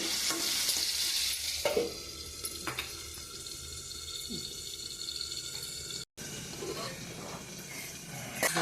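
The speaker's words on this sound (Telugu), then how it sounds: "ఇవి అప్పుడప్పుడు ఉడికిన వరకు అప్పుడు కలుపుకుంటూ ఉండాలి" Food frying in a pan is stirred over a continuous sizzle, with scraping strokes and light clinks of utensil against metal, close up and without talk.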